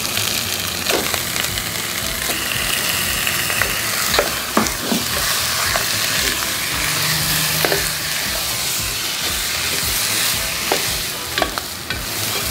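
Duck pieces sauté in red spice paste in a pan: a loud, constant sizzle with scattered sharp clicks and scrapes of stirring throughout, growing busier near the end.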